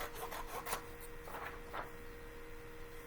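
Notebook paper being trimmed along its side for a math notes setup: several soft, close rasping cuts in quick succession, then quieter rustling, with no talk.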